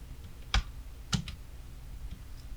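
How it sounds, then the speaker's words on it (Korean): Keys pressed on a computer keyboard, the Home key then the spacebar, during video editing in Premiere: two distinct clicks about half a second apart, close and clear over quiet room tone. "홈키 누르고 스페이스바"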